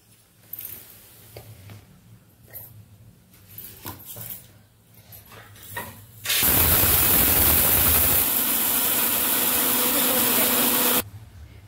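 A mixer grinder powders dried ginger, cardamom and millets for multigrain ladoo. After quieter handling noises, it roars with a loud, steady whir for about four and a half seconds and then cuts off.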